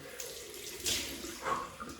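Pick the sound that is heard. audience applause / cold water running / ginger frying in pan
cold water running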